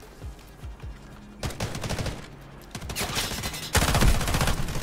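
Automatic gunfire in the shooter Delta Force: Hawk Ops, with a few single shots at first and then loud, dense sustained bursts that grow heavier toward the end.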